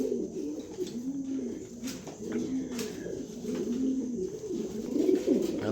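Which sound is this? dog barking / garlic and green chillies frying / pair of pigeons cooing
pair of pigeons cooing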